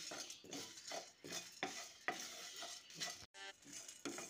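Whole cinnamon, peppercorns and dried chillies dry roasting over low to medium heat, faint rhythmic scraping strokes of a spoon against the pan with a light sizzle.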